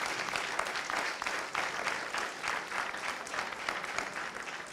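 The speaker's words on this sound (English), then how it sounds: "I think we need to give them a big round of applause." A live audience claps steadily and densely for the whole stretch, a sustained, moderately loud wash of applause with no clear break.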